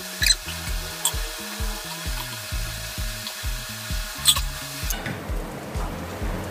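A second batch of tofu fries in oil, giving a soft, steady sizzling hiss that grows louder and fuller near the end, heard under rhythmic background music.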